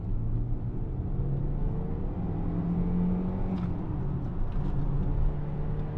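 A Citroën Xsara VTS, in worn condition, climbs a hill with its engine held at high revs, a steady droning rumble heard from inside the car, with a faint rise and fall in pitch throughout.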